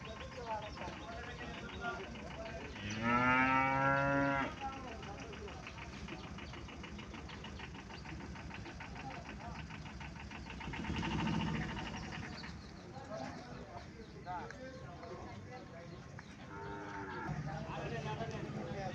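Cows moo loudly several times over the murmur of a busy outdoor cattle market crowd on a rainy day, with people talking and an engine running in the background.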